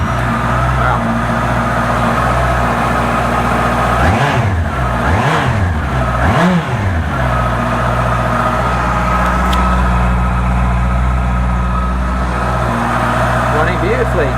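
Salvage Honda CBR650R motorcycle engine fired up for the first time, idling loud and steady up close with a few quick throttle blips in the middle.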